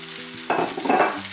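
Goan sausage chilli fry is tossed with coriander in a pan, giving a short, close burst of scraping and sizzling over a faint tonal hum.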